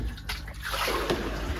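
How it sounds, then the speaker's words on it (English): Water rushing through a pond skimmer line into a drum screen filter, a continuous close wash of flowing, splashing water that swells slightly after a brief dip. "that's a skimmer line just flushing through"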